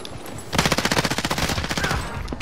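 Rapid automatic gunfire from the video game Warzone, a loud sustained burst of closely spaced shots lasting about two seconds, with a player's voice faintly underneath.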